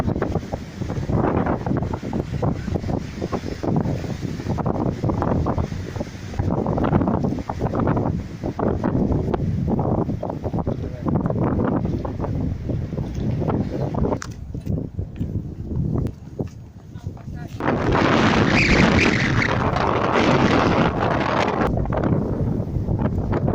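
Strong wind buffets the microphone at a harbour in Iceland lined with Art Nouveau buildings, gusting in heavy roaring bursts throughout and swelling louder near the end.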